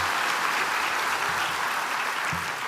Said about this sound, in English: Let's give them a round of applause for this recognition.